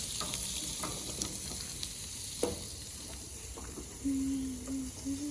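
Broccoli sizzles and crackles steadily on a hot CrossRay barbecue grill, an even frying hiss throughout with scattered pops and a brief tonal whine near the end.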